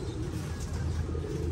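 A racing pigeon held in a loft coos in soft, low, continuous murmurs close by, with a faint background hum and no talk.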